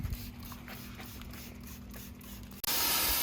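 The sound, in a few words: water spray rinsing iron remover off car wheels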